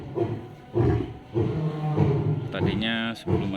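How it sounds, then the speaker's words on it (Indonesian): Following the azan, a lion lets out repeated low, resonant roars in rolling bursts, loud and close, with people talking over and between the calls. "Setelah dengar azan, singanya juga gaung."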